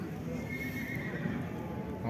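A horse neighs at a busy livestock market, a loud whinny standing out over hoof clip-clops and a dense crowd murmur with some talk nearby.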